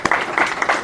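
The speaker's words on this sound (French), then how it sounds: "on va applaudir pour toi" A brief, close round of clapping breaks out during a motivational talk, a dense patter of several hands lasting under a second.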